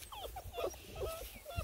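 Bluetick coonhound puppies give soft, high, wavering whimpers and little yips in short bursts, fairly faint and close, with some shuffling between them.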